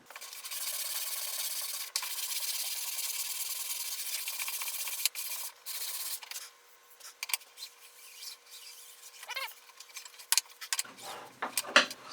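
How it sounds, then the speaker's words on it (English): Continuous scratchy rubbing of sandpaper on wood, steady strokes for several seconds, then scattered short rubs and handling noises close by. "I think we first need to hit it with some sandpaper."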